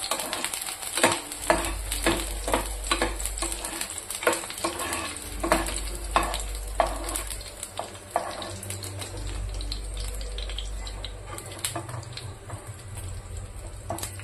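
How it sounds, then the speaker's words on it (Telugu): Dried red chilies and a couple of handfuls of peanuts frying in a pan, crackling and sizzling up close with frequent scraping stirs, over a low intermittent hum and no talking. "దీనిలోనే నేను పల్లీలు వేసుకొని వేయించుకుంటాను."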